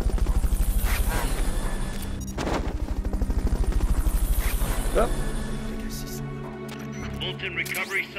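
A helicopter in the video game Metal Gear Solid Peace Walker thumps with a fast, regular rotor pulse under game music and effects, fading toward the end.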